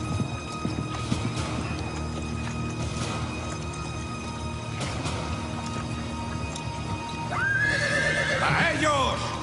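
Horses whinny and hooves clatter amid the din of a medieval battle, with a shrill neigh rising loud near the end over a dense, continuous background of fighting noise and shouting voices.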